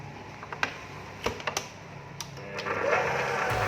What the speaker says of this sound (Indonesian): Ini di mixer lebih kurang 1 menit supaya mengembang ya.